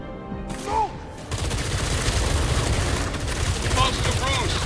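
Gunfire rattles in the VR video game Batman Arkham Shadow, a dense stretch of rapid shots lasting several seconds at moderate loudness, with brief shouted voices over it.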